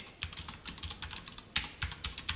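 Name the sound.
typing code on a computer keyboard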